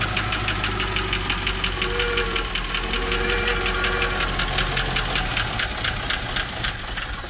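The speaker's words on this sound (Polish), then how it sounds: "ale samochód odpala" A freshly assembled V8 car engine runs with a fast, even ticking beat over a loud continuous rumble, close and steady throughout with no voices.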